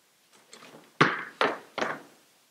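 An apartment door on a third floor is unlocked and opened: a few soft rustles, then three sharp, close thunks in quick succession, like a latch and the door knocking open, with no talking.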